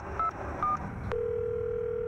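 A payphone is dialed: two short touch-tone beeps, then a click and a steady dial-type tone that holds to the end, quiet and close.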